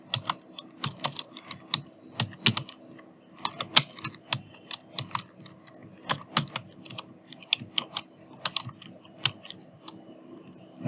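Rapid, irregular clicks of someone typing on a computer keyboard, close and clear, with short bursts and pauses between keystrokes and no talking.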